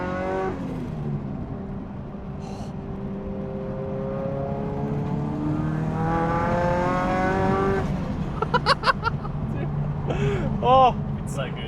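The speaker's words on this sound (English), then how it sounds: "I'm on the throttle a little bit and it's not giving way." Engine note of a turbocharged GT86/BRZ sports car rising in pitch as it accelerates on throttle, heard from inside the cabin, with brief tire or shift chirps near the end and people talking over it.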